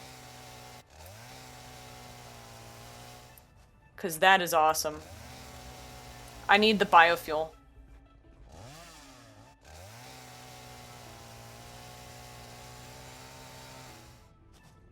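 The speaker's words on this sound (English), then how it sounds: "the chainsaw is gonna be dead useful, and I'm going to have to harvest a lot of leaves off camera" A chainsaw in the video game Satisfactory cuts away leaves and bushes, a steady droning engine hum running through most of the clip, briefly interrupted while someone talks loudly over it.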